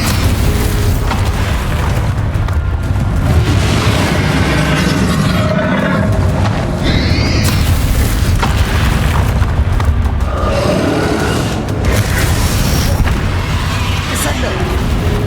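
Booming blasts from a Bombarda spell in Hogwarts Legacy, loud and repeated over roughly fifteen seconds, mixed with other spell effects and game sounds, with a voice speaking over parts of it.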